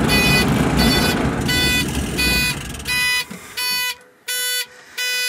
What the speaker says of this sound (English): Annoying beep from that turning signal.